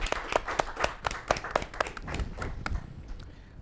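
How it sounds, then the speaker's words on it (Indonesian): Small audience applauding after a philosophy debate on Socrates and Nietzsche, a handful of distinct, close claps at first blending into scattered clapping that fades out. "Kita beri tepuk tangan untuk duel Socrates dan Nietzsche."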